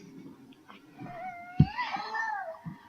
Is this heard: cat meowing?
yes